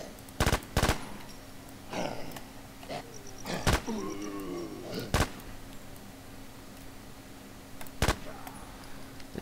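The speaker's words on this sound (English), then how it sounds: "It's like one click with the mouse is a default 2-bullet burst." Short two-round bursts from a P90 in a zombie shooter game, several sharp loud cracks spaced a few seconds apart over a low background hum.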